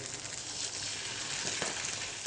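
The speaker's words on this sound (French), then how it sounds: "Je colore fortement mes filets de thon, 1 minute de chaque côté." Tuna fillets seared hard in olive oil in a hot pan, a close, continuous hissing sizzle that stays even throughout with no talk.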